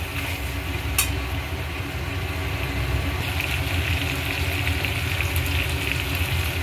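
Potatoes frying with a catla fish head in a pan for cabbage curry: a steady, close, continuous sizzle holds for several seconds, with a faint clink near the start and no talking.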